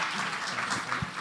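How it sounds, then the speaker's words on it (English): An audience at a live show claps for a guest named Dorinda, a moderate, continuous patter of applause with a soft low thump partway through and no clear voices on top. "Guys, clap it up for Dorinda."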